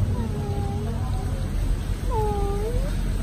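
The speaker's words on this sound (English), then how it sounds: "That is the house cat." A house cat meowing inside a Miami mansion, two drawn-out wavering meows with a pause between, clear over a steady noisy background hum.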